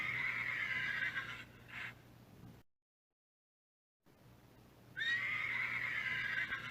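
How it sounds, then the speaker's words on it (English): A horse whinnies loudly in two bursts, a high quavering neigh at the start and another after a brief silent gap, with faint rumbling noise between them. "Horse neigh."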